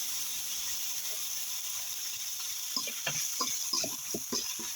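Spices, tomato and green chilli frying together in a pan for a winter curry with snakehead (shol) fish, a steady close hiss with stirring scrapes and sputters growing busier toward the end.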